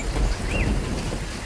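Heavy cartoon rain pours as a dense, steady hiss with a low rumble underneath, close and continuous throughout, with a brief higher whistle-like tone rising and falling in the middle.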